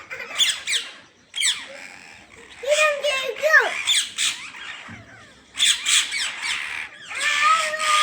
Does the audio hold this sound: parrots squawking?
yes